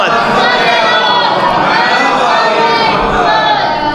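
Large majlis crowd at a religious gathering, loud and continuous mass voices chanting and shouting together, dense and sustained throughout with no pauses.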